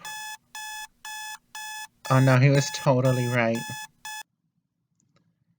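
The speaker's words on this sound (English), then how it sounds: "My alarm clock." An alarm clock rings in a series of regular electronic beeps, loud and close, with a voice speaking over the later beeps before the ringing stops.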